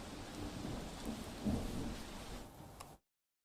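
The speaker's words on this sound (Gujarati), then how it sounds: "વલસાડ શહેરમાં મોડી રાતથી ધોધમાર વરસાદ વરસી રહ્યો છે" Heavy rain pours down steadily on the city of Valsad, a dense hiss of falling water with a low rumble underneath, cutting off abruptly at the end.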